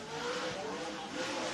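A dirt late model race car rolls out onto Lake Cumberland Speedway in Burnside, Kentucky, its engine a distant steady drone beneath an announcer's voice over the speedway sound system.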